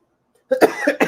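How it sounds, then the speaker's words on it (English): A short burst of coughing while handling powder, three or four quick dry coughs close to the microphone after a moment of silence. "it's making me want to cough"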